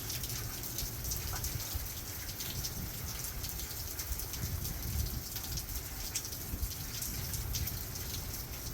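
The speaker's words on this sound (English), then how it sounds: "Now the rain and the wind wants to come." Steady rain with gusting wind from Hurricane Helene at night, a dense continuous wash of drops pattering on surfaces and roaring airflow, loud and unbroken with no voices.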